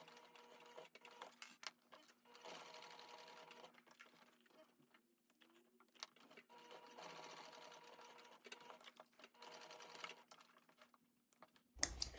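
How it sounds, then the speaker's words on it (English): A sewing machine stitches across the back straps of a pair of overalls along chalk lines, in several short bursts of moderate, close-up running separated by quiet pauses, with a faint steady hum between bursts. "I'm going to go back to the machine and I'm going to stitch across my chalk lines"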